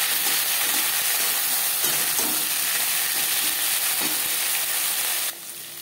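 Eggplant pieces fry in hot oil after panch phoron, a steady, dense sizzle with occasional stirring scrapes, close and even, cutting off abruptly near the end.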